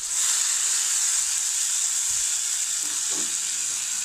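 Onions and tomatoes fry in a pan for dhal curry, a steady close sizzling hiss with a couple of soft stirring scrapes near the end.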